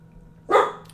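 A dog lets out a single loud, sharp bark close by, alone against a quiet room.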